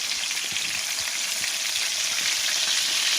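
Chicken crisps in a hot frying pan, giving an even, close-up sizzle of spitting oil that stays steady and uninterrupted throughout.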